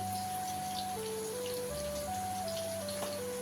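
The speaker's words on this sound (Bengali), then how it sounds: "ও বাবা জোরে নেমেছে বৃষ্টি দেখো" Heavy rain pours steadily as a constant, even wash of noise at a house, with a simple electronic melody of sustained tones playing over it throughout.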